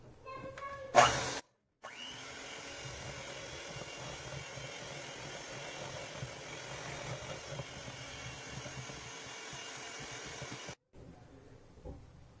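Electric mixer beating buttercream icing at low speed, a steady quiet motor hum for about nine seconds between brief bursts of handling noise at the start and end.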